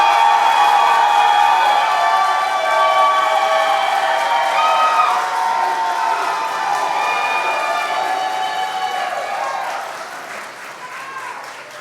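An audience at a youth entrepreneurship challenge claps and cheers loudly and steadily for a contestant, with high voices calling out above the applause before it tapers off near the end.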